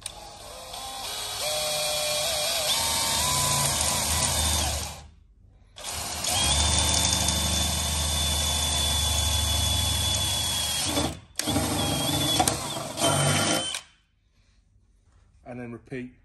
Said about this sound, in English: keeping your drill nice and straight.